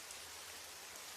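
Steady rainfall, a dense, even hiss of drops hitting surfaces that continues without a break, soft and constant.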